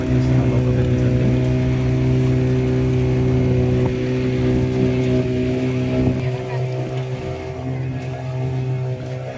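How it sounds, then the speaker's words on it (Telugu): Motorboat engine droning steadily on a beach boat ride at Yanam, a loud continuous hum that fills the whole stretch, softening slightly near the end, with voices talking over it. "ఆ వెనకాల వస్తున్న పడవ చూసారా, దాని స్పీడ్ చూస్తుంటే మా బోట్ని దాటి వెళ్ళిపోయేలాగా ఉంది అది."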